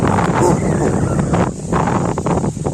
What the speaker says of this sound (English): Why does it have to be so windy?